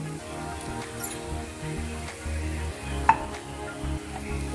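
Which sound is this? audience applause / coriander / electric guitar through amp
coriander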